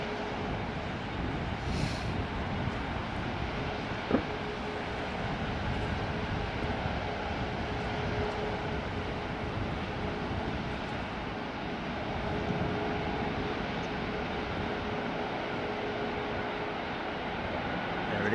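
An airliner landing in a gusty crosswind, a steady broad roar of engine and wind rushing continuously for the whole stretch, fairly distant and even, with no voices over it.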